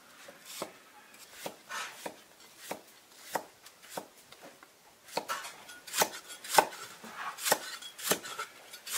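A knife chops ginger and garlic on a cutting board in a home kitchen, sounding as sharp, irregular taps that gradually speed up and grow louder, heard on their own without talk.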